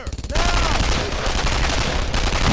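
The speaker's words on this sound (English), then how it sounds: "They're shooting at me!" Dense gunfire in Brothers in Arms: Earned in Blood, a few sharp separate shots that break into a loud, continuous fusillade of overlapping bursts.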